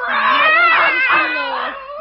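A cat screeches loudly and close by in a drawn-out, wavering caterwaul of rising and falling tones, heard alone for two seconds.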